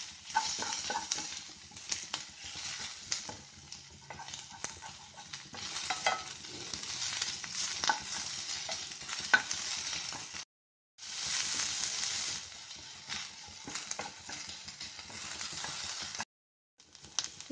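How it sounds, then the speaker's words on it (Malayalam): Onions sautéed in a pan for a cauliflower masala, a faint continuous sizzle with scraping stir strokes that run steadily, stop briefly, then resume, with no talk. "സവാള നന്നായിട്ട് വഴറ്റിയെടുക്കണം നമുക്ക്."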